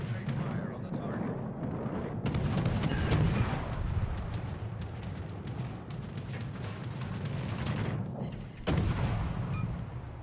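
Naval gunfire in World of Warships, the cannon volleys landing as repeated heavy booms over a dense, continuous battle rumble, loudest around the middle and again near the end, with a voice speaking under the noise.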